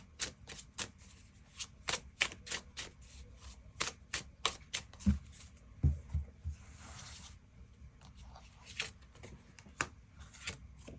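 Tarot cards being shuffled and drawn close by: a quiet run of crisp, irregular riffles, slaps and slides with short pauses between them.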